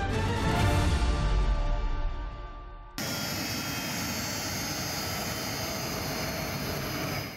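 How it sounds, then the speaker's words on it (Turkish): Ambulance jet plane taking off, a loud roaring engine rush that fades out, then cuts abruptly to a steady broadband jet hum that continues evenly to the end, with no talk. "Yaklaşık 13 bin metreye taşınan ambulans uçak bu kez bir ilk için havalandı."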